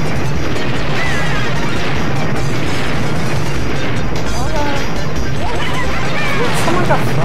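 Bombs explode in a chaotic Mario Kart Wii online race, with loud continuous crashing blasts piling up into a dense roar, under talking voices.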